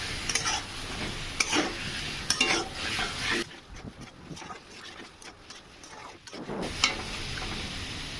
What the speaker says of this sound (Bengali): এবার আলুটা দিয়ে দিলাম আলুটা দিয়ে একটু ভালো করে নাড়াচাড়া করবেন